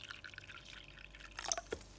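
Water drips and splashes as a tarantula enclosure is watered: faint trickling through most of the moment, then a few close, sharper drips near the end, with no one talking.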